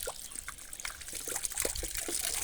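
Water from a village fountain trickles and splashes close by as a bottle cap is rinsed under it, a steady light pour with small irregular drips and no voices.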